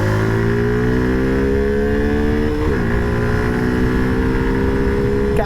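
A Suzuki Gixxer 150 motorcycle is ridden through city traffic, its engine droning steadily up close with rising pitch and a brief dip and recovery as it shifts, under wind noise.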